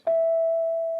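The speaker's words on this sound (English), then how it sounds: "If a question is missed, you will hear a familiar chime note that sounds something like this." A single sustained chime note from a radio quiz show marks a missed question, one clear steady tone that rings on alone without fading much.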